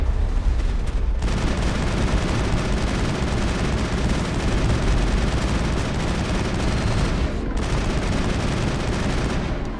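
Sustained automatic gunfire and heavy shooting in a sci-fi shooter battle against Geth, loud and continuous throughout, with brief breaks in the volley near the start and two-thirds through.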